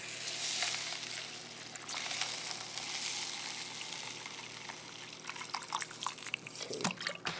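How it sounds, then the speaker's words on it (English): Water poured into a container of quinoa for microwave cooking, a steady close rush of liquid that breaks into irregular splashes and drips toward the end. "fill the container with about three times as much water"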